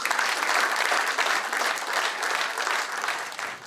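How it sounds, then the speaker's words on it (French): Applause at a French legislative campaign event for candidate Christophe Coulon, a steady, dense round of clapping from a gathered crowd filling the whole stretch without pause. "vous pouvez l'applaudir"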